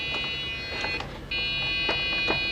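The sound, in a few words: Dell Dimension 4600 computer beeping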